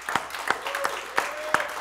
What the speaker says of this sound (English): Give the Lord a hand clap.